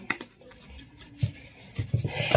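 Tarot cards being shuffled by hand make soft, quick riffling patters and clicks in short bursts, quiet and close, with no voices.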